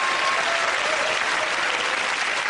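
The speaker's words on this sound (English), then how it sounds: "Give it up round of applause to Russell, Fred and Andy." A studio audience on a comedy panel show claps steadily, a dense, even wash of applause that stays loud throughout with no speech over it.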